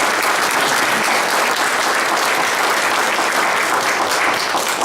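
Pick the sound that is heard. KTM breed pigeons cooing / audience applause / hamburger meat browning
audience applause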